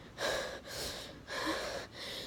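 A person imitates hard, shaky breathing with four loud breathy gasps in uneven rhythm, heard close and without other talk.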